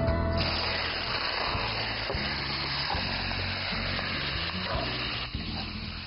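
Duck browning in a pan, a steady close sizzle and spatter of hot fat running throughout with light scraping and stirring noises, no talking.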